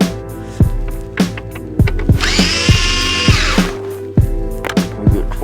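A power drill whirring as screws come out of a 2005–2009 Subaru Legacy/Outback dashboard during a radio install, loud and close, with repeated thumping pulses under the motor hum and a brief higher spin in the middle.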